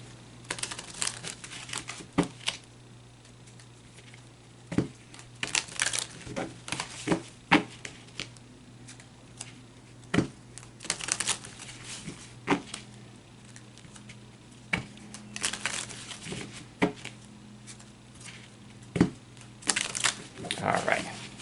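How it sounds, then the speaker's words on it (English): Gypsy Witch Oracle cards being shuffled by hand, a run of soft crinkly riffles and taps in uneven bursts, close and fairly quiet, with a low steady hum underneath. "Now I'm going to take the Gypsy Witch Oracle and do the same. I'm going to shuffle with the same intention."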